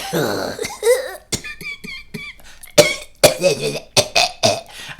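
A narrator voices a shabby, bedraggled wolf in a children's audio story, imitating raspy wheezing and a string of rough coughs and throat-clearing grunts, close and fairly loud with short pauses between bursts.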